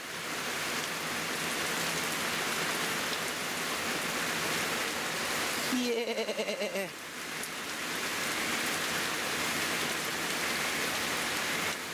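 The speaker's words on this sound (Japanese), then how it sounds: "ちょほんまマジで嵐なんやねんけど。" Heavy rain roars steadily and loudly throughout at a campsite in Inuyama, Japan, a dense wash of downpour; a voice briefly calls out midway over the storm.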